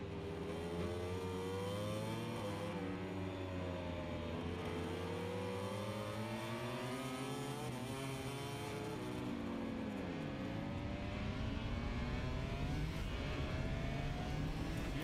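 A MotoGP motorcycle engine at a race circuit in Hungary revs hard out of the final corner, loud and continuous, with pitch sweeping up through the gears and then falling and rising again.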